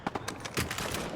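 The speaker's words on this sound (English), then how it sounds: "he's shooting. Shotgun." Rapid shotgun blasts from a first-person shooter video game, about half a dozen sharp reports in quick succession filling the short moment at close range, with no talk over them.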